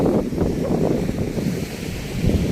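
Sea waves wash steadily onto the shore at Shiyal Bet during a fishing outing for fish and shrimp, a constant broadband surf roar with wind buffeting the microphone and no voices.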